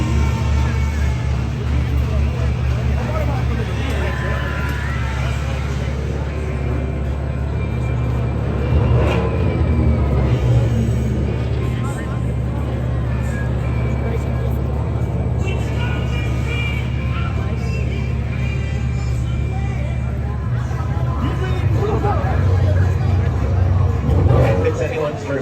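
Maxx Force launched roller coaster at Six Flags Great America, a steady loud rumble and whir of the ride running throughout with a crowd babbling beneath and a voice now and then.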